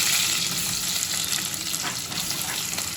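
Onions fry in a pan for a chicken pizza topping, a steady, hissing sizzle at moderate volume, continuous and close with no voices.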